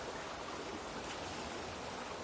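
A forest river flows steadily nearby, a broad even rush of water with no breaks and no voices.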